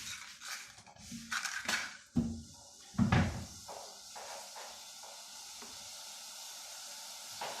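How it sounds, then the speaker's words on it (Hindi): Sugar syrup coming to a boil in a pan while making shakarpara, with a steady close sizzling hiss beneath a few louder clanks and knocks of utensils against the pan early on. "ये अब इसमें बॉयल आ रहा है"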